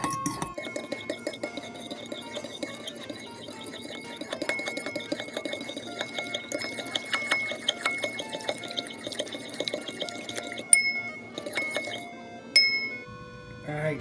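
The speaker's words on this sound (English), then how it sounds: "So now you gotta get your fork, you gotta stir it. Just keep stirring." Fork stirring egg in a glass bowl, producing rapid, repeated bright clinks and taps up close, with a few sharper knocks near the end.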